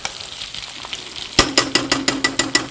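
Onions hit a hot pan with a loud burst of frying, followed by a quick rhythmic series of spatula strikes and stirs over a bright, crackling sizzle, close and alone.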